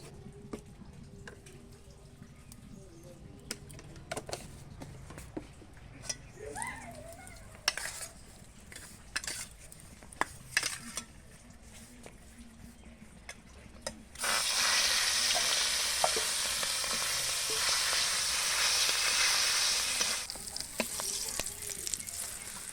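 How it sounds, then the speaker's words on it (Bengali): Oil fries with turmeric in a pan on a large, hot stove. Scattered metallic clinks and scraping come first, then a loud, dense sizzle suddenly takes over and carries on steadily to the end. "হলুদ দিয়ে তেলটা আগে একটু ভাজবো"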